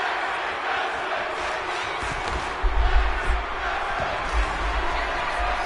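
A crowd roars and chants rhythmically during a tag team wrestling match in the WWE 2K25 video game, a broad arena swell that surges loudest near the middle of the stretch.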